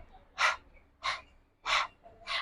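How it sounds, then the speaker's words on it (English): Sharp, forceful panting breaths during a kundalini yoga practice, four quick exhalations at an even rhythm, close and clear with no talking. "Instead of that O shape with our mouth, we're just panting, letting that anger go, pushing it out, pushing it away."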